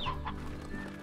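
Chickens cluck in short, close bursts inside the Slime Rancher game world, with a steady soft bed of game ambience running underneath and no voice over it.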